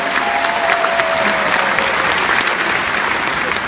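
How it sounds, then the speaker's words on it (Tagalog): A large audience at an inspirational testimonies event applauds their parents as loudly as they can, a loud, dense roar of clapping from a big crowd that holds steady from start to finish, with a faint crowd murmur mixed in. "pwede palakpakan mong pinakamalakas na palakpak ang mga magulang mo"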